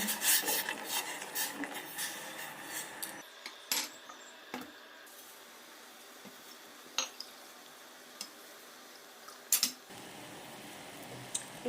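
A spoon stirring two spoons of sugar into masala tea, with light metallic clinks and scrapes against the cup, busy at first and then settling into sparse, separate taps over quiet.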